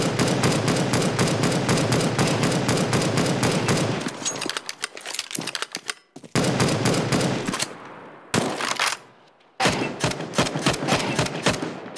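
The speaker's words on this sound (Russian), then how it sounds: "Пулемет такой крупнокалиберный." Heavy large-calibre machine gun firing in Counter-Strike: Global Offensive, a loud sustained rapid burst that breaks into shorter choppy bursts with brief gaps, then resumes.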